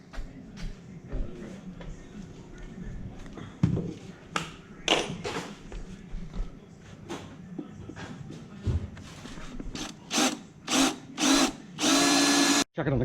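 Power drill bursts on a car during a manual engine swap, a Mk3 Supra getting a 1UZ-FE VVTi V8, with repeated short drilling runs and tool clatter, ending in a long loud sustained drill whine close by.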